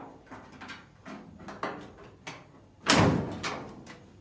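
A preloaded door with a newly mounted striker is pushed shut, with several soft knocks and clunks building to one sharp, loud latching thud near the end, close by and with no talk.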